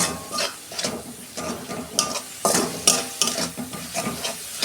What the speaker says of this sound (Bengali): 2 মিনিট আমি মশলাটাকে কষতে নেব।